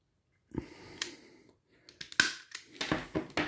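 Weicon No. 5 Pro stripping pliers cut through electrical cable in a few sharp, close snips and clicks with short effortful crunches, separated by quiet gaps.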